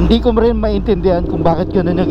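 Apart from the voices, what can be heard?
None of the usual background noises is heard.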